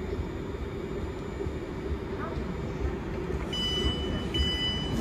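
A London Northwestern Railway train runs alongside on the next track, a steady loud rumble of wheels and carriage noise that continues throughout, with brief higher squeals near the end.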